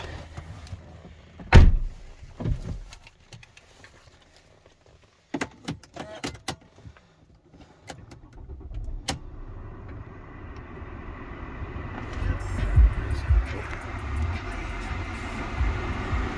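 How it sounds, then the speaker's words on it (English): A Mercedes CLS 350d diesel is entered: a door thuds shut, scattered clicks and small clunks follow, then the engine starts and settles into a steady, growing idle rumble. "let's get in and we'll start her up"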